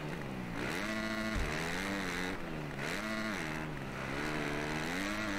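Motocross motorcycle engines from MXGP 2021 at the Lommel sand track whine steadily. Pitch climbs and drops repeatedly as the bike revs through gear changes, close and continuous with no voices.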